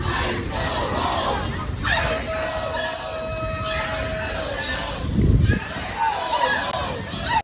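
A crowd of protesters chants loudly and rhythmically at federal agents near a metro bus and subway stop in Washington, D.C.'s Columbia Heights, with shouting voices, overlapping chatter and a louder surge partway through.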